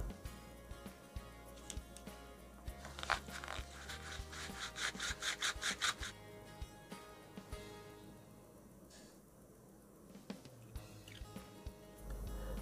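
A small rubber gasket from an Orient Power Reserve watch case is wiped clean with close, faint rubbing and squeaky scrubbing strokes, including a quick rhythmic burst of rubs.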